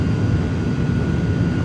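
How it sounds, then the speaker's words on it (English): An iniBuilds A300 with Pratt & Whitney engines deploys its thrust reversers during landing in Microsoft Flight Simulator, giving a steady, loud low-pitched roar with a faint high tone that continues unbroken through the moment. "Reversers are reversing."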